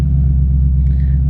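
A Ford Mustang Fox Body classic muscle car with a MagnaFlow exhaust idles close by, giving a loud, steady, deep groaning rumble with no break.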